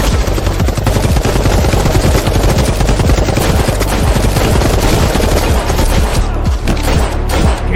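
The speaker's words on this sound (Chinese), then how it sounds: "开火" Soldiers opening fire on a dinosaur: dense, continuous automatic gunfire, loud and close, a steady roar of rapid shots with no gaps across the whole stretch.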